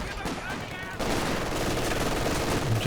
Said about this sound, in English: MG keeping the squad suppressed.